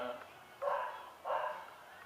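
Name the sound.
dog barking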